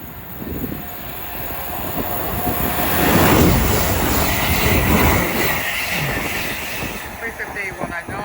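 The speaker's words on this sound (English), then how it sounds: "Soon to pass through now will be a pair of London North Western Railway pair of 350s going from Bakerloo Street to London Euston" Two London Northwestern Railway Class 350 electric units pass at speed through Watford Junction on the West Coast Main Line, a loud rising roar of wheels on rails with a faint high squeal, steady and close.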